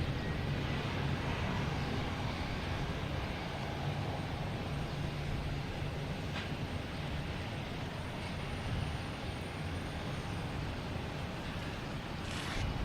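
Steady broadband jet roar from an airliner taking off at Boston Logan Airport, heard at a distance as a constant rumbling wash with no talk over it.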